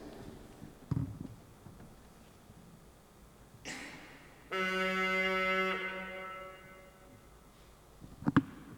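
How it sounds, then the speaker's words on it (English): A single reedy, buzzy Vox Humana organ pipe sounds a sustained note for about a second, preceded and followed by quiet room noise and a few knocks. "This is one pipe of the Vox Humana in the organ there."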